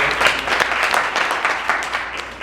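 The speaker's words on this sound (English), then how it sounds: "Please give her a clap." A small Toastmasters audience in Medina claps for a speaker, with loud, close, steady applause and distinct individual claps throughout.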